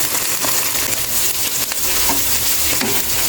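Egg and white onion frying in a pan while being stirred, a loud close sizzle broken by repeated scraping and stirring strokes.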